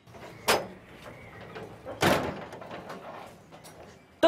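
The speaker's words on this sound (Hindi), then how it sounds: "दरवाजा भेड़ लो।" A door in a home setting is pushed shut with a sharp thud near the end, following two earlier loud knocks or bangs, with faint background activity between them.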